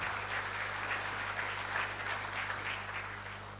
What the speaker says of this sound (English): So just let's hear a round of applause before we move on to questions